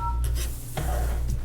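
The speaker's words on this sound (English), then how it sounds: "she's just calling Mike." Telephone dialing tones while placing a call during a board meeting: short bursts of tones over steady low hum, loud and close.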